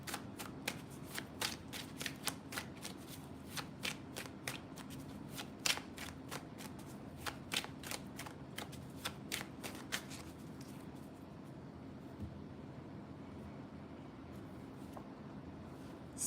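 Tarot cards are shuffled by hand, a rapid series of crisp riffling snaps for about ten seconds that then gives way to softer sliding and handling, close and quiet with no talk.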